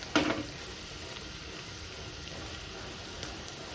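Chole masala dropped into hot oil: a sharp sizzling burst at the start that settles into a soft, steady frying hiss, close and fairly quiet, with no talk.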